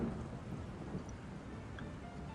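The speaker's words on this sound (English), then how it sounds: "It's not just rain. It's slow-mo rain." Slowed-down rain within a lo-fi hip-hop track, a dense, low, muffled wash of patter like heavy rainfall or distant rumble, steady and fairly loud for a couple of seconds with no voices.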